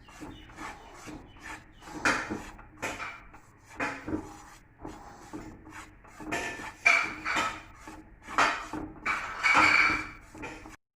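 Food dry-roasting without ghee in a pan over a low flame is stirred in uneven scraping strokes, a dry rasping rub of spoon against metal coming in repeated close bursts with brief pauses.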